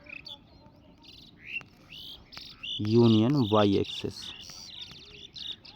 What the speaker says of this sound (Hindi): चिड़िया सुनाई दे रही है आवाज़ आपको